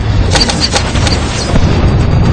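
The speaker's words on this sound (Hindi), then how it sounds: "उनका सामना हुआ तोपों के हमले की बौछार से।" Cannon barrage in a naval battle as guns open fire on an Ottoman fleet anchored in the Golden Horn, with dense rumbling blasts and sharp cracks layered into a continuous loud roar.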